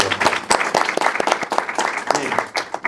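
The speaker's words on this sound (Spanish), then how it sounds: "Fuerte el aplauso para él, por favor." A room full of people applauds, dense overlapping claps with a few sharper ones standing out, steady and fairly loud throughout.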